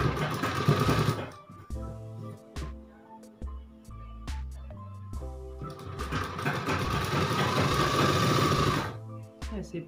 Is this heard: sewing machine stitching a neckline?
yes